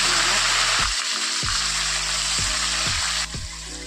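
Water going into a pan with mustard oil during cooking, a dense steady hiss and sizzle, loud and close, with a rhythmic mechanical ticking underneath.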